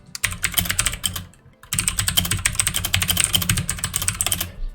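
A loud computer keyboard clatters with rapid continuous keystrokes close by, pausing briefly once before resuming a dense typing rhythm.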